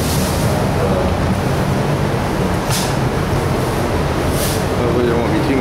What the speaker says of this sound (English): So it's a little windy in here today.